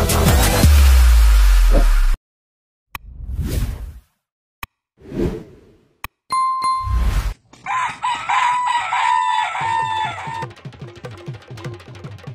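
A Filipino breed rooster crows amid a montage of whooshing transitions and plops, its call coming in short bursts between silent gaps before busier mixed sound fills the end.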